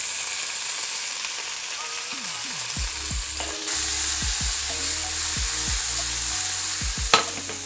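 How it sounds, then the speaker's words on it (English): Cherry tomatoes and capers fry in a hot pan with an even hiss, which swells as they go in, under a low hum and a sharp clack near the end. "I'm gonna add my cherry tomatoes, and then I will add my capers"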